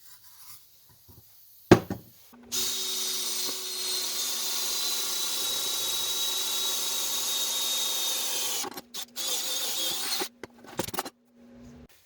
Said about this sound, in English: Now that all the holes are drilled